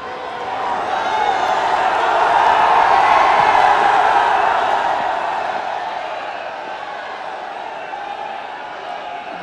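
A large crowd at a foundation stone laying ceremony in Varanasi swells into sustained applause and cheering, rising to a loud peak and then easing into a softer ongoing roar.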